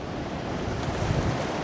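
Ocean waves and wind on open sea as a small grey World War I submarine dives beneath the surface, a steady broad wash of surf with low rumble, even and unbroken, no voices.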